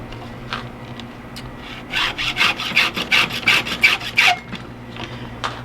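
A hand file sharpens chainsaw chain teeth, starting with a few light scrapes before a close, rhythmic series of about nine steady rasping strokes, then tapering off to faint touches.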